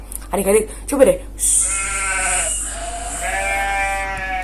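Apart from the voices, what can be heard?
goat or sheep bleating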